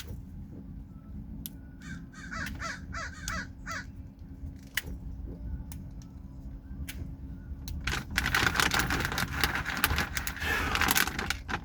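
Crows caw repeatedly while being fed handfuls of food outdoors on a humid day, harsh calls coming in bursts over steady low traffic rumble, with louder broadband noise near the end.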